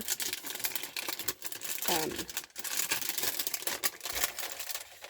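Sheets of tracing paper are handled up close, giving a dense run of crisp crinkling and rustling with sharp crackles throughout, fairly loud and continuous.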